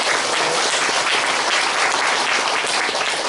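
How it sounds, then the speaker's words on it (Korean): A large congregation gives loud, sustained applause in a worship hall, a dense, continuous roar of many hands clapping with no break and no talking over it. "우리 모두 참어머님께 존귀와 영광으로 큰 박수를 올려드리겠습니다."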